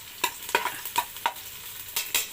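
Spices toast in a pan with a wooden cinnamon stick, giving a soft sizzle broken by a series of light scraping strokes as they are stirred, close and fairly quiet with no voices.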